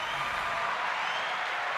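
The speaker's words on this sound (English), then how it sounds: "Hand claps." Steady, dense applause fills the space at a live podcast taping, a continuous wash of hand claps from an audience held at an even level throughout.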